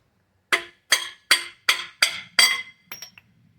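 An aluminum pipe run up the cam bore of a 350 small-block Chevy strikes the cap at the back, giving about eight sharp metallic clinks in a steady rhythm that fade at the end.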